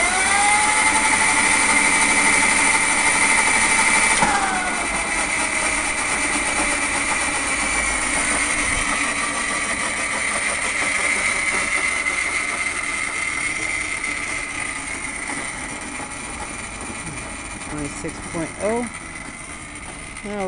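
A car engine with a turbo runs steadily and loud, a whine holding over a broad rumble that shifts in pitch partway through, with a few light knocks near the end.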